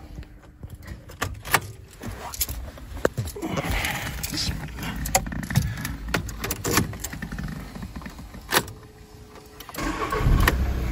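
Turning the key in a 2011 Audi A3 with a no-crank, no-start fault brings clicks and scattered clunks with a low mechanical hum but no engine catching, with keys jangling and a voice speaking nearby.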